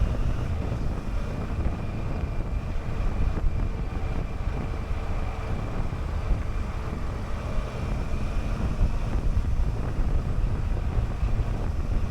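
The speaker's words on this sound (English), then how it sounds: "So the wind is actually getting up a little bit more at the moment," Steady, dense wind roar buffets a microphone while riding a motorcycle fitted with a Puig Touring windshield, continuous and close, with engine rumble underneath and no talking.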